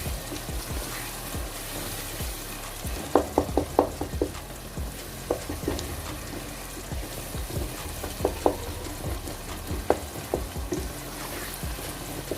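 Spices with dried coriander being stirred in a hot pan for an egg chana dish: a low frying sizzle under several bursts of quick spoon scrapes and taps against the pan, close up, with no talk.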